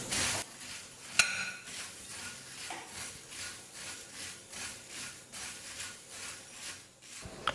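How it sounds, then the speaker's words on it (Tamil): Puffed rice dry-roasting in a pan over medium flame, stirred with steady, rhythmic scraping and rustling strokes and an occasional utensil knock, close and fairly quiet. "ஸ்டவ்வை வந்து மீடியம் ஃப்ளேமில் வச்சுக்கிட்டு ஒரு 2-3 நிமிஷத்துக்கு நல்லா பொரியை வறுத்துக்கலாம்"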